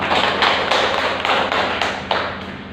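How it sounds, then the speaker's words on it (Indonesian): A class gives a short round of applause for a student group during a microteaching lesson: close, quick, evenly spaced claps for under three seconds. "Kita beri aplaus untuk kelompok 2."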